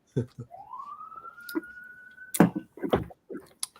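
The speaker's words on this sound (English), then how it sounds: "There's a siren in Seattle." An emergency vehicle siren wails in Seattle, rising in a single long sweep and holding a steady tone, faint and distant. Intermittent clicks and voices from people talking come through over it.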